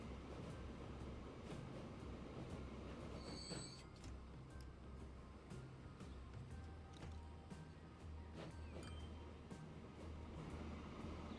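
Trains in Transport Fever 2 rumble steadily at low volume, with a brief high squeal partway through and faint clicking over the continuous rolling noise.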